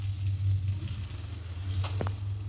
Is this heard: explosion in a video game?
no